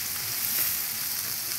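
Garlic frying in a pan as a base for a Filipino okra and potato stew, giving off a steady, close hiss of sizzling oil that stays even throughout, with no talking.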